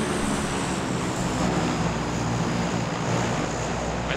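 A propeller transport plane drones steadily overhead in the battle royale game PUBG, a continuous even engine hum with a faint wash like surf beneath it, no talk.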